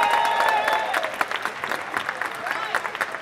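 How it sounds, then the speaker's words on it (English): An awards-ceremony audience applauds a DJ, dense clapping that starts under an announcer's voice and carries on through the clip, loud and close. "Give him a round of applause, guys."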